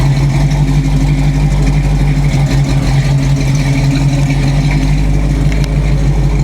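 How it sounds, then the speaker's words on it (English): Low, throaty idle from the Flowmaster-equipped exhaust of a 283 small-block V8 in a 1967 Chevrolet Nova, a constant loud rumble close by with no pauses or revs. "Sounds pretty good even with the 283,"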